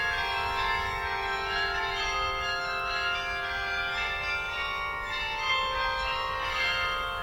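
Carillon bells ring out steadily, a dense cluster of sustained, overlapping tolls with long resonant decay filling the whole stretch, no voices.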